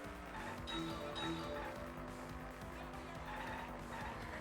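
Kart racing in the Mario Kart video game: buzzing engines and squealing tire skids with faint game music, all played quietly and fairly steadily throughout.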